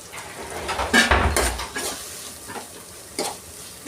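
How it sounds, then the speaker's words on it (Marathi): Garlic, coconut and ginger paste with a little coriander sizzles as it is stirred in a pan, with clear scraping strokes of a spatula and clinks against the metal, close and alone without speech. "याला छान असं परतून घ्यायचं आपल्याला."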